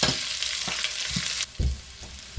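Spices and small onions being tempered in hot oil for a Jaffna-style masala dosa batter, a bright sizzle and crackle with a few low stirring clunks, close and loud, then a louder splash-like burst as the sizzle drops.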